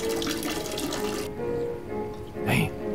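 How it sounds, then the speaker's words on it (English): A bathroom sink tap runs steadily in a video game as hands are washed, a continuous broadband splash that drops off partway through, with a brief louder gush near the end and some faint voice in the background. "Wash my hands."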